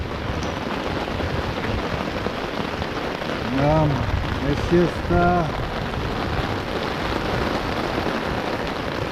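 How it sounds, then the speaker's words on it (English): Rain falls steadily on a tent during a riverside thunderstorm, a close, even patter with faint low rumbles beneath, while someone speaks briefly midway. "Got just a couple of little drips in the tent, nothing to worry about. And I'm just waiting for the storm to pass."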